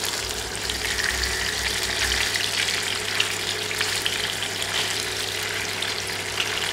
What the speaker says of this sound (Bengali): তেলটা ভালোভাবে গরম করে চুলা হাই থেকে মিডিয়ামে নিয়ে আসব এবং মাছ তেলে দিয়ে দেব